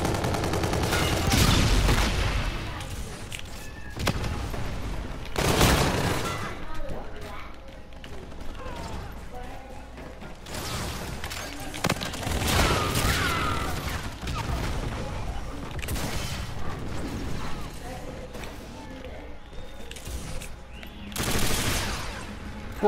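Bursts of automatic gunfire and explosions in the online shooter Call of Duty: Infinite Warfare, loud and repeated across a noisy match, with mechanical clatter between volleys and players' voices talking over the action.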